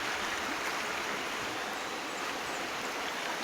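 A cold, spring-fed stream flows in Davao Oriental with a steady, close, broadband rush of water that never pauses.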